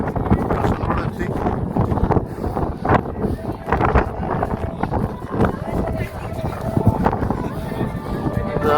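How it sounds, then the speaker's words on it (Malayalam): Strong wind buffets the microphone on top of Jatayu Para hill, roaring and gusting loudly and continuously from start to finish. "നല്ല കാറ്റുണ്ട്, അടിപൊളി കാറ്റാണ്."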